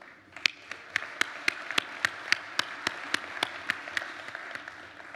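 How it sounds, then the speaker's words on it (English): A conference audience applauds itself at an opening ceremony, sparse, individual claps ringing out in a steady, spaced rhythm against a low murmur of soft clapping, moderately close. "Give yourselves a round of applause."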